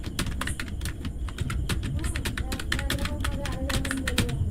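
Steady bursts of keystrokes on a computer keyboard while entering a sheet name into a Google Sheets script, quick irregular clicks running continuously at moderate level with no talking.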